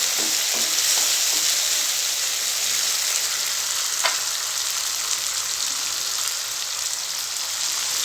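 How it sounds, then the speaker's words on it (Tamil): Chopped tomatoes frying in a pan for a curry leaves kulambu give off a steady, close sizzle that stays even throughout, with a brief stir scrape partway through. "தக்காளியோட பச்சை வாசனை போகிற அளவுக்கு ஃப்ரை பண்ணிக்குவோம்."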